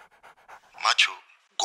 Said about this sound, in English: Oh, those small puppies.